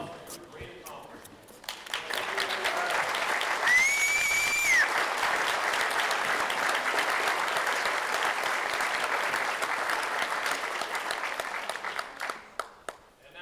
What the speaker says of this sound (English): give you a round of applause for your great accomplishment